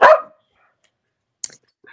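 A dog barks once, loud and close, at a house during an evening paranormal investigation talk, followed by a couple of faint clicks and rustles after a second of silence.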